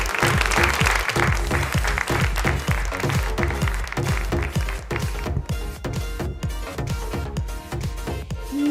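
Loud crowd applause at a textile fair prize draw for a coupon winner, a dense clapping roar over a thumping rhythmic beat, strong and sustained before easing slightly toward the end.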